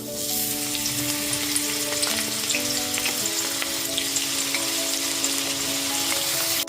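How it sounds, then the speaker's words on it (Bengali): Eggplant pieces frying in very hot mustard oil over a gas flame, a loud continuous sizzle with crackling pops and a faint background hum, steady throughout with no talking. "সবার আগে আমি বেগুনের টুকরোগুলোকে ভেজে তুলে নেবো"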